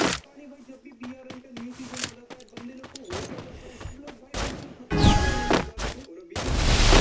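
Gunfire in a shooting video game comes as rapid cracking bursts and booming volleys, some close and loud, mixed with a player's talking throughout.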